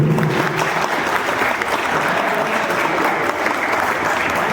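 An audience at a sangeet night claps loudly and steadily after a dance performance, a dense, continuous round of applause up close.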